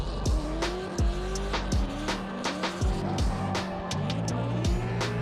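Drift car tires squealing in a tandem run at a grassroots drifting event, with loud repeated screeches and rising, falling engine notes from cars passing close by.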